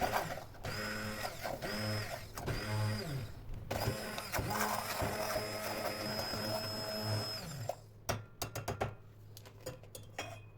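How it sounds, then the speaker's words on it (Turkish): A blender whirs steadily for several seconds, pureeing cooked sour cherries with a rough motor drone, then slows and rattles to a stop. "Vişneler kaynayıp yumuşayınca blenderdan pürüzsüz olana kadar geçirelim."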